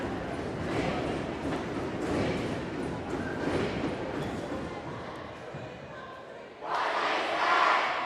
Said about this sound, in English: St. Ansgar student section doing a big cheer right now